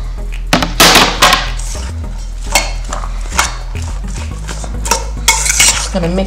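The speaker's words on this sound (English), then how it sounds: "Just gonna mix that all together." Utensils toss a vegan salad of onions and celery in a bowl, giving a busy run of clattering scrapes and knocks over a low steady hum, close and fairly loud.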